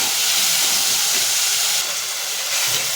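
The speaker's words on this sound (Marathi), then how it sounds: "आता ह्याच्यामध्ये मी कांदा आणि टोमॅटो दोन्ही एकत्र टाकून परतून घेणार आहे." Chopped onion and tomato sizzle in hot oil in a pan, a loud, steady frying hiss that holds for the whole stretch with only slight swells and no voices.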